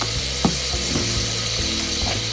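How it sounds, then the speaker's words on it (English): Asafoetida hitting hot oil in a pan while cooking Sindhi daal, a loud steady close sizzle with a few faint clicks and taps, no talk. "So we add 1/4 teaspoon of asafoetida hing like this"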